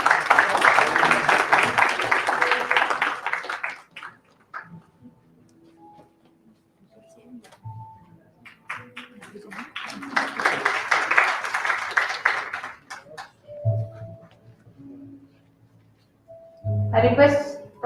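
Audience clapping at an indoor conference prize ceremony comes in two strong bursts of dense applause, separated by a quieter gap with faint voices and small knocks, and a short sound bursts out at the end.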